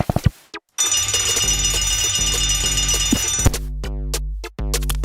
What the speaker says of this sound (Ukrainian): Я була настільки втомлена, що проспала будильник.